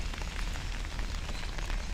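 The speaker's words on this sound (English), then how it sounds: "Though it is raining, so that's not good." Rain falling in a park in Huzhou, Zhejiang, China: a dense, steady hiss of drops pattering on surfaces, close and constant throughout, with no voices.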